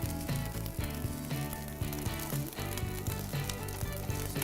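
Cooked rice with onion fries on the griddle of a REC TEC grill, giving a continuous close sizzle. Soft scraping and stirring comes through under background music.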